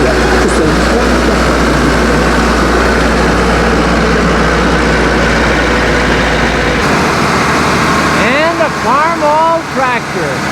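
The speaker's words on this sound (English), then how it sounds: "Farmall tractor." A Farmall tractor engine runs in a town anniversary parade in Fort Kent, with a loud, steady low rumble that drops away partway through. Voices and other street sounds follow.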